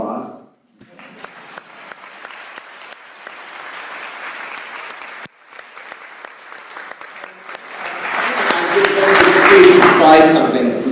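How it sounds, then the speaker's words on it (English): Audience applause in bursts of scattered clapping that break briefly, then swell louder and denser toward the end, with a voice faintly audible at the start. "We need some applause."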